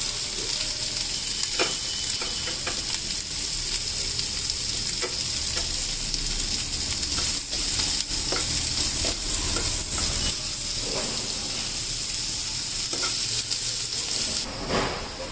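Onions sizzle and hiss steadily in a hot pan while being stirred, with scattered scraping clicks from the spoon throughout, fairly close and without any talking.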